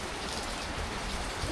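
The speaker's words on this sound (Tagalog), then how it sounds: "Sana huminto yung ulan." Steady hiss of rain falling in Okinawa, a dense even patter close by with no talk, lasting only a moment.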